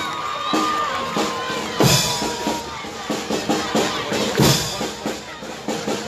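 Audience at a school band contest clapping and cheering for a student band, a lively crowd with scattered shouts and bursts of applause, moderately loud throughout.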